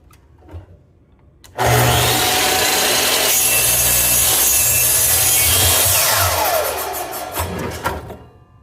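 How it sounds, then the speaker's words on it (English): A miter saw cuts through wood with a loud whine and rasp that starts suddenly and holds for about five seconds. The blade then winds down with a fading hum and a few rattles. "We would turn the saw on, we'll go down, push in while we're making the cut, we'll let go of the handle"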